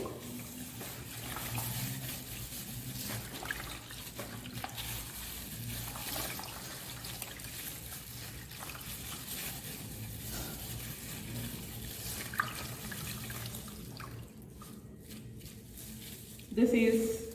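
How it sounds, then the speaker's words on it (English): A brass or silver article is rinsed thoroughly in plain water under a running tap, giving a steady, fairly faint hiss of flowing water that continues throughout, with occasional soft splashes and a brief louder moment at the end. "I am washing this article in a plain water"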